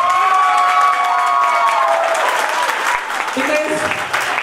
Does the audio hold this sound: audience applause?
yes